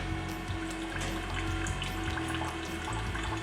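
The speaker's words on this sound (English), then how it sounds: "after the rinse into the drain, we're performing a final rinse through into the cup station area." Water rinsing through the milk module of a Brasilia Festa coffee machine and draining away, a steady close splashing and running flow that holds constant throughout with no talking.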